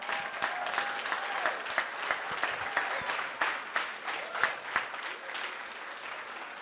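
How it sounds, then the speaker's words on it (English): Audience applause for teachers at a school welcome-back celebration in Riviera Beach, a steady dense clapping from a standing crowd that holds for several seconds with individual claps popping through. "give a special round of applause and a big thank you to our teachers, our stars"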